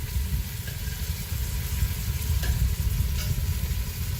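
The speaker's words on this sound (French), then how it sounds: "Donc là, mes viandes dorent facilement." Beef chunks for bourguignon-style couscous kabyle brown in a pan with a dense, steady sizzle and a heavy low rumble underneath, close and fairly loud throughout, no voices.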